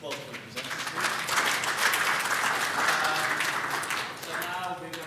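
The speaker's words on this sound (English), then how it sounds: "So just to applause for the presenters." An audience at a water-themed side event applauds the presenters, a sustained, fairly loud clapping that swells after a quieter start and holds steady, with a voice faintly audible beneath it.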